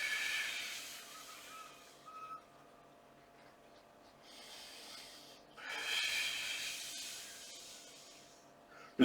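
Exhalations during a Pilates exercise with a Swiss ball, soft breathy hisses swelling and fading in slow cycles, close and faint with no talking.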